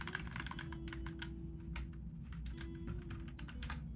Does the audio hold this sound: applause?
no